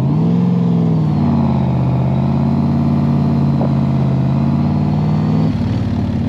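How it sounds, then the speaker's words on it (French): An AC Cobra sports car engine revs loudly and steadily from the driver's seat, a deep throbbing drone that rises and falls as the car pulls along, with a brief shift near the end. "Ah, je conduis une Cobra."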